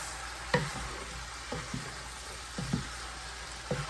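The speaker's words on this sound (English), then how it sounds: "Now I'll add in my carrots. Mix." Carrots are stirred into a sizzling pot of Guyanese chicken cook-up rice, with a spoon scraping and turning the food in four or five distinct strokes over a steady close frying hiss.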